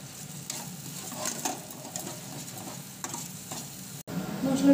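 Spice paste for a paneer curry, seasoned with salt and a little sugar, sizzling in the pan under repeated stirring strokes, a close steady fry that briefly cuts out near the end.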